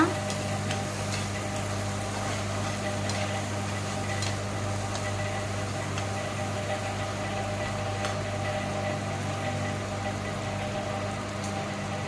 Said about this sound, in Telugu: బాగా కలుపుకోవాలి బాగా ఫ్రై చేసుకోవాలి పచ్చివాసన అంతా పోవాలన్నమాట